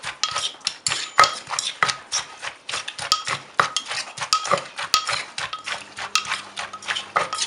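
Green papaya salad pounded in a mortar, a dense run of quick, irregular knocks and clinks of pestle against mortar and utensils, loud and close with no talking.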